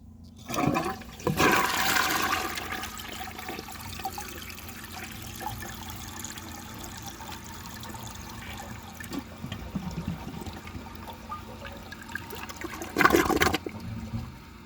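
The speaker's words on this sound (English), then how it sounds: "For the first flush test, let's see how it flushes with a dry bowl." A 1982 American Standard Plebe toilet flushed with a dry bowl: a loud rushing surge at the start, then a long steady trickle of refilling water, and a second brief gush near the end, with no voices.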